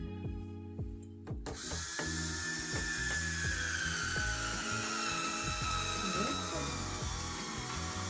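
An electric wine bottle vacuum sealer on a bottle of Cantina Gabriele Malvasia red wine gives a few clicks, then a steady close mechanical whir that runs for several seconds as it pumps air out.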